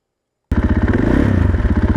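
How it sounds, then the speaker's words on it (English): A 2024 Husqvarna FE501S motorcycle engine starts up and idles while warming up, a steady loud throbbing rumble with rhythmic pulses and mechanical clatter, close by and alone. "The bike warm up for a second"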